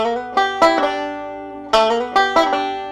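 Banjo lick in an advanced style, plucked close and clear: quick forward-roll notes with a slide and a pull-off, bright picked attacks ringing out in two short bursts.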